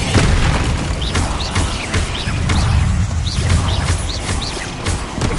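Loud, rumbling spell blasts and crashes from a Harry Potter-style wizard duel game on PS5 Pro, with heavy booming impacts layered over continuous chaotic combat noise and whooshing effects.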